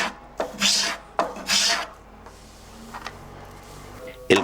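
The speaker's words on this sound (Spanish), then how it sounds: "Para pulimentar el tonel se utiliza el cepillo normal de carpintero y la rasqueta de pulir" A carpenter's plane and polishing scraper work the wooden body of a handmade wine barrel, giving long rasping strokes in a steady rhythm, loud and close, followed by softer scraping.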